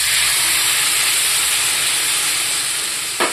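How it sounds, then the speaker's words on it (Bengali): Water poured into hot fried masala for a fish-roe fritter and potato curry sends up a loud, steady hiss of sizzling steam that fills the whole stretch, easing slightly near the end. "মশলাটা কষা হয়ে গেছে, এবার আমি জল দিয়ে দিচ্ছি,"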